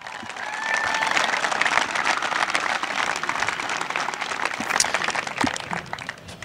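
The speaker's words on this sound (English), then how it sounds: "Let's give them a big round of applause." Sustained applause from a crowd at a school sports field dedication event, dense steady clapping filling the whole stretch at moderate distance, with no talking over it.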